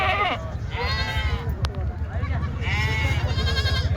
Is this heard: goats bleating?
yes